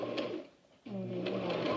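Sewing machine back stitching a homemade face mask, with a rapid mechanical whir, a brief pause, then another burst of close stitching.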